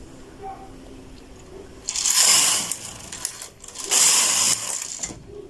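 A knitting machine works a tuck stitch bubble pattern as the carriage makes two loud mechanical sliding passes with rattling, clicking needles, separated by a brief pause, against a quiet room.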